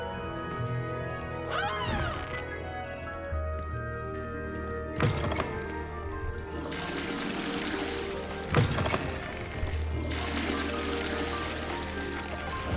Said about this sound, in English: And they flush.